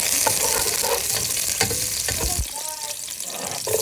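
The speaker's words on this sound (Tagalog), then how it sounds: "bibita po tayo ng bawang" Garlic sautéing in a hot pan gives a dense, steady sizzle, broken by a few sharp scraping stirs near the end.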